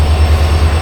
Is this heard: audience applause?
no